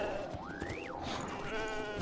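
Goat bleating in the video game Genshin Impact: a single wavering, rising and falling bleat followed by a second, steadier bleat, close and clear over a soft ambient game background with no talk.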